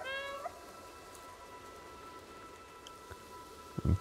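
A cat meows once at the start with a bright rising cry, followed by a quiet lull and a soft thump near the end, in the video game Stray.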